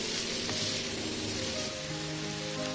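Vegetables and tomato frying on high flame on a tawa for pulao, a continuous close, even sizzle with crackling spatter and no talking.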